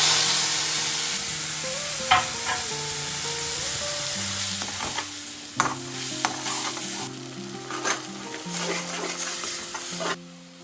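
Chili powder, cumin and tomato paste sizzle steadily in a pan for an aloo paratha filling, a soft continuous fry with occasional scraping stirs and clinks of a spoon, close and with no talking.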